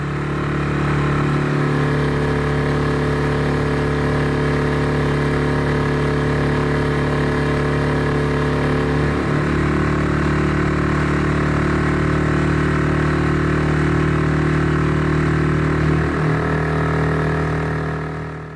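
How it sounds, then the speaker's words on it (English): A 6-horsepower boat outboard engine at quarter throttle on a loch in late autumn, a steady, regular mid-pitched drone that holds evenly for the whole stretch, close and alone with no talk. "The regular beat of a 6-horsepower outboard, running on a quarter throttle and sipping fuel at displacement speeds"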